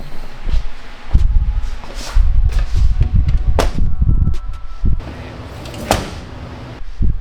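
Several dull, muffled knocks on a BMW E30 door panel lined with Killmat sound deadening, thuds with little ring, close up amid handling noise and rustling.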